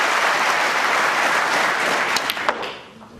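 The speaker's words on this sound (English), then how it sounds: "As the audience applaud a magnificent one." Snooker audience at a World Championship semi-final applauding a century break, a broad wash of many hands clapping that holds steady, then thins out with a few final claps as it fades.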